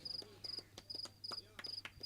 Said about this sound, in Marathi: आता रात किडे किरकिर करतायत.